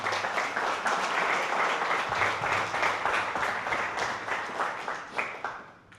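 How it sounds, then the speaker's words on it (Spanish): A church congregation claps together during a worship service, with brisk, fairly loud applause that pulses for several seconds and then tapers off near the end. "Dale un aplauso al Señor."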